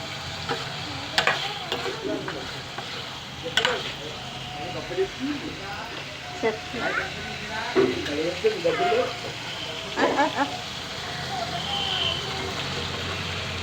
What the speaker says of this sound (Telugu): ములక్కర ముక్కలు కూడా వేస్తున్నానమ్మా చూడండి ములక్కర కూడా రెండు కలిపి ఒక నిమిషం వేగుతాయి